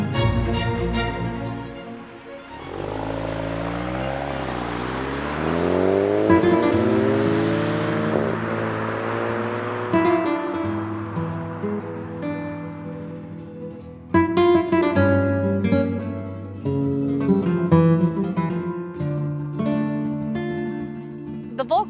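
A 2025 Volkswagen Golf GTI accelerates through its gears with an automatic transmission, the engine note climbing and dropping in rising sweeps between shifts, loud and close for the whole stretch.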